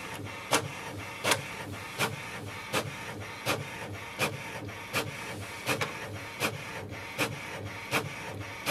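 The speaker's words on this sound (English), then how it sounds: "The printer is quite efficient and the speed is good" An HP Envy 6255 inkjet printer printing, with regular sharp clicks and print-head strokes roughly every 0.7 seconds over a steady mechanical whir, close and alone.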